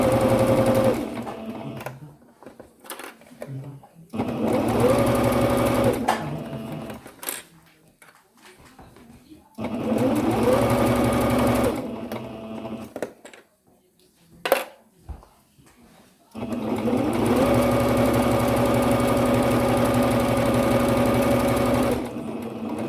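A sewing machine stitches a fabric pouch in three long runs, a steady whirring hum close by with brief stops between seams and a few small clicks and clunks in the pauses.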